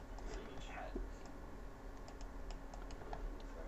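Rapid, irregular clicks of fingers typing on a computer keyboard, close and steady, with low whispered speech underneath.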